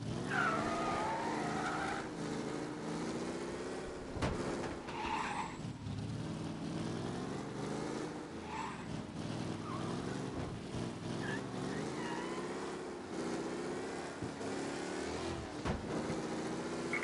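A race car in Mafia Definitive Edition speeds through city streets, its engine roaring and shifting pitch with repeated tire squeals and skids on corners, loud and continuous throughout.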